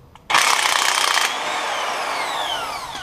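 A sudden loud burst of a power tool spins off a 17 mm strut top nut on a 2006-2011 Honda Civic, running about a second before winding down into a fading ringing whine.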